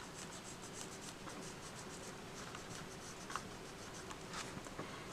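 A water-soluble Stabilo-All pencil scratches steadily across paper up close, quiet irregular strokes with soft scraping texture and occasional light taps.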